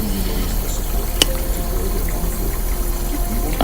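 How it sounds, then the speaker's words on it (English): Water is worked into the back section of natural curly hair, a steady close wet hiss with one sharp click partway through and no talk. "I'm putting the water in there right now"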